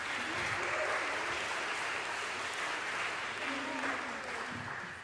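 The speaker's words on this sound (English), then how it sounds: "they deserve a round of applause." Sustained audience applause at an elementary school choir Christmas concert, a steady wash of many hands clapping for about five seconds, with faint voices mixed in beneath it.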